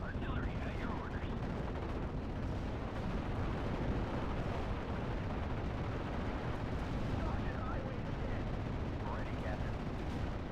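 Artillery fire in the video game Steel Division: Normandy 44, a dense continuous barrage of booms and gunfire rumbling steadily throughout, with faint voices surfacing briefly over the battle.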